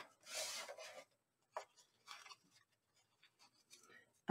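A scoring tool is drawn across a small paper card in a few quick, faint scratching strokes at close range, separated by short pauses and soft handling sounds.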